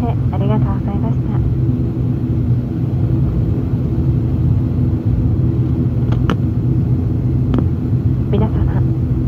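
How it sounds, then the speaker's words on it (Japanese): Steady low rumble of a Hokkaido Air System airplane cabin while taxiing to the gate, with engine drone and occasional clicks and a faint voice over it. "この飛行機は間もなく駐機場に到着いたします"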